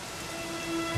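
Steady rain pours down in the Dragon Quest 11 video game, a dense even hiss with a faint low rumble like distant thunder near the end.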